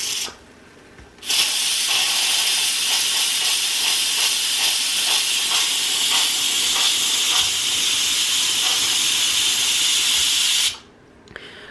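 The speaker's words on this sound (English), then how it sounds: "This is really hot steam and I'm gonna show you what it looks like." Hot steam blasts steadily from the release valve of an Instant Pot pressure cooker, a loud continuous hiss lasting about ten seconds before cutting off abruptly into quiet.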